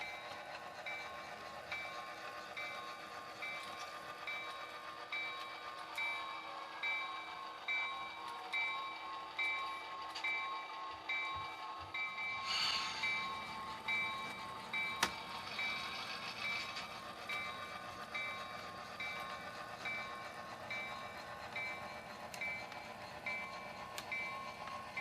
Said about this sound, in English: The locomotive will then run light around the train so that it can pull the last 2 cars from the team track